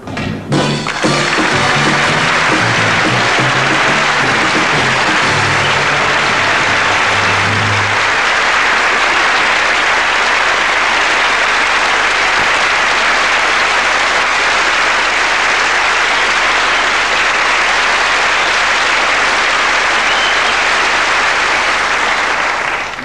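Studio audience applause on a British TV comedy sketch show: loud, dense clapping that carries on for over twenty seconds, with a few tonal notes sounding under it in the opening seconds.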